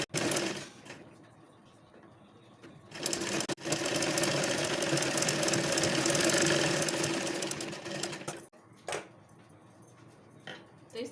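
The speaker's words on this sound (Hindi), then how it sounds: "इस तरह से रखने के बाद इस पर सिलाई लगाऊंगी।" A sewing machine stitches a puff sleeve close to the buckram, running in short bursts before one long, loud run of steady whirring and knocking, then a few brief bursts after it stops.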